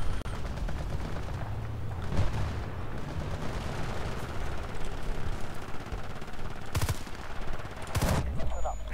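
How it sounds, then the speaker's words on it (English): Dense rapid gunfire and explosive bursts from Battlefield: Bad Company 2 on PC, sustained automatic fire with a couple of sharp louder blasts near the end, loud and continuous throughout. "What the heck is shooting me?"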